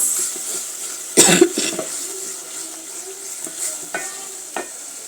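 Carrots fry in an oil pan with a steady sizzling hiss. A sharp clatter of stirring comes early, then there is a cough and a few lighter scrapes. No one speaks.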